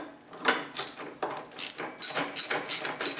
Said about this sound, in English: And now remove this nut over here.